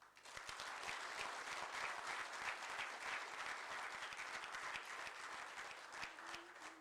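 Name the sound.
audience applauding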